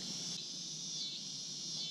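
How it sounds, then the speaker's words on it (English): Loud insects, likely crickets, chirp outdoors on an August evening in a steady, dense continuous drone with no voices. "Those bugs are loud."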